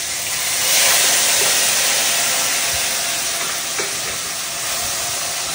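Onion paste sizzling in hot oil for tel koi, a loud, dense, steady frying hiss with a slight surge near the start, close up and uninterrupted by voices.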